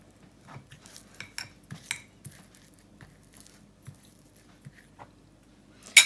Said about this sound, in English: I'm just using a fork to squish it all down